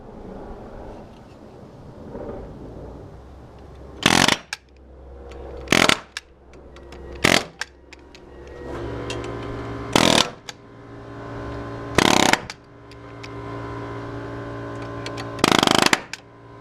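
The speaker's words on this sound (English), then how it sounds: "So we'll cut the beam in a minute." A power saw makes several loud, brief cuts through a wooden beam at a house construction site, about six bursts spaced a second or two apart over a steady background hum.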